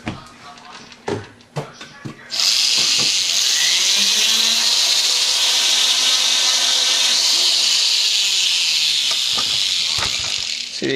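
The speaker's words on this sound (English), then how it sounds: "I'm going to grind away. You'll see it start to come clean." A rotary tool grinds tarnish off a silver pendant at a jewelry bench, a loud, steady high-pitched whine with hiss that runs unbroken to the end after a few seconds of talk and handling noise.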